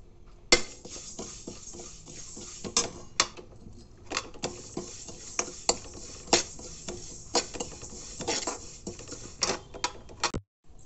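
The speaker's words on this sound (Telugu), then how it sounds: "ముందుగా స్టవ్ వెలిగించి కడాయి పెట్టి 4 స్పూన్ల నువ్వులు వేయించుకోవాలండి" Sesame seeds roasting in a dry kadai on a stove, with a steady faint rustle and repeated clinks and scrapes of a spoon stirring against the metal pan.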